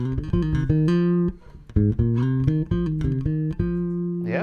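A bass guitar plays a fast, busy fill of plucked and hammered-on notes, loud and close, and a slide near the end. No one speaks.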